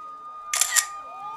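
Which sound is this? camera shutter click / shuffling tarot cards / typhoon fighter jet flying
camera shutter click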